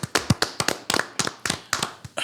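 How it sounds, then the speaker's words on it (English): A group claps for a podcast guest in a quick, uneven burst of sharp hand slaps, close and fairly loud, with no voices over it. "Everybody clap it up for Niddy, y'all."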